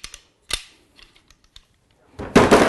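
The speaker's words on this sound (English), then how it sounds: "Bolt back in and work it in two or three times." A rifle bolt is worked back and forth in its raceway during rifle set-up, giving a few sharp metallic clicks and clacks with quiet gaps, then a louder, longer sliding rasp at the end.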